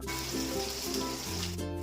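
Desi koi fish frying under a lid in a covered pan, giving a steady, dense sizzle that holds evenly throughout at close range, with no talking.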